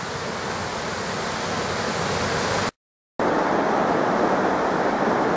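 The Kizugawa River rushes steadily in a broad, loud wash of flowing water, uninterrupted apart from one brief silent gap, with no voices.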